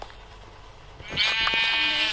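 A sheep in the Minecraft video game bleats in a single loud, wavering call that begins about halfway through and holds steady to the end, following quieter background game noise.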